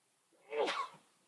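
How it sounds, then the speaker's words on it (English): A single human sneeze, close and fairly quiet, building from a short intake to one sharp burst and trailing off, with no talking around it. "Sneeze."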